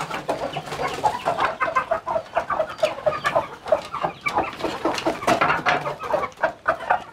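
Broody hens in a coop cluck repeatedly in short, close, overlapping bursts, a busy poultry chorus with some louder calls standing out, and no talk over it.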